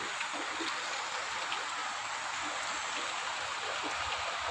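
Heavy rain pours down in a dense, steady roar of drops on surfaces, with no voices.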